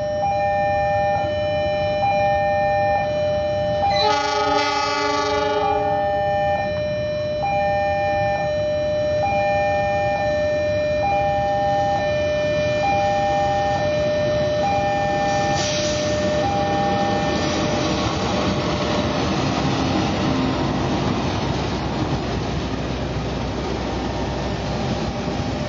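A CC206 diesel locomotive hauling the Argo Dwi Pangga passenger train sounds its horn in repeated short even blasts alongside a long sustained tone, over a continuous rumbling engine drone.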